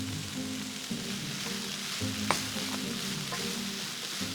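Green beans added to softened carrots sizzling in a soup pot, a continuous close frying hiss with a low hum and a few soft clicks and scrapes of stirring.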